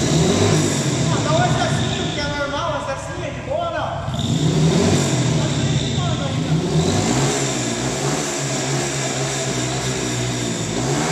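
A Biz 150cc motorcycle tuned to run on alcohol accelerates hard, its engine note climbing through gear changes while someone talks over the loud, steady roar.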